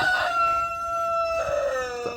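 A rooster crows loudly nearby, one long drawn-out call followed by a second shorter crow, with no voices.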